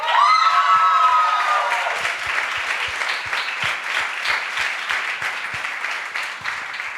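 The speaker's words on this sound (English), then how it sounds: "Keep the applause." Audience applause at a community talk, a steady wash of many hands clapping that holds for several seconds and slowly thins, with a brief tonal sound at the start.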